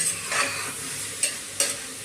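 Cashews stirred into a veg biryani mixture in a pan, with a soft steady frying hiss and a few short scraping strokes of a spoon, close and alone.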